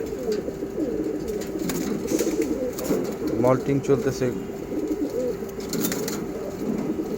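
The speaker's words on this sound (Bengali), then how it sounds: "এই যে কবুতরগুলো খাচ্ছে এগুলো নর কবুতর" Male pigeons feeding give low, repeated throaty coos close by, while someone talks over them.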